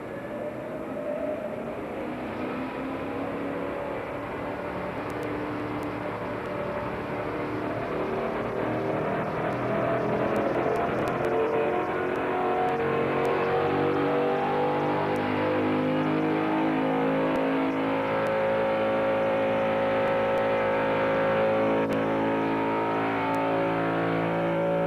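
Chevrolet Corvette ZR1 with its LT5 engine running up through the revs, a steady loud mechanical drone that climbs gradually in pitch with harmonic layers over about twenty-five seconds and no talk.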